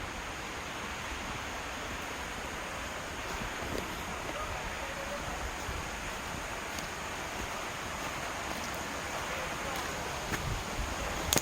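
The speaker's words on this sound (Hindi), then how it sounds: "देखो नदी की आवाज़ भी कैसी सुन धीरे धीरे आ रही है।" A river flowing through Gir forest, a steady broadband rushing wash that holds even and continuous throughout, distant and unbroken, with no voices over it.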